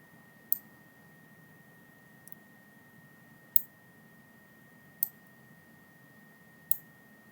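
A computer mouse clicks five times in a quiet room while items are copied and pasted in PLC programming software; each click is sharp and isolated, spaced over several seconds, above a faint steady electronic whine.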